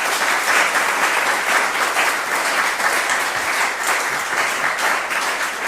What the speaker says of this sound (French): Et je vous demande de les applaudir bien fort.